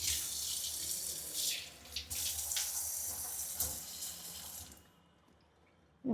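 Water pouring from a kitchen sink tap in a Chennai flat, a steady hissing splash into the basin that stops abruptly near the end, followed by a short thump.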